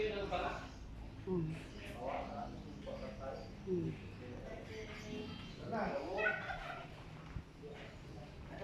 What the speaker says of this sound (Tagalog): Ah, pabo. Meron din sila doon.